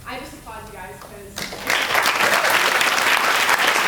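Audience applause for storytellers breaks out about halfway through, loud dense clapping from a crowd that follows a brief spoken passage and continues steadily to the end.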